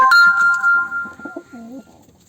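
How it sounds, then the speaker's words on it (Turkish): Pigeons in a loft coo close by, a few soft warbling calls over a brief moment with a clear tonal note at the start. "Kuşlarımız burada gördüğünüz gibi."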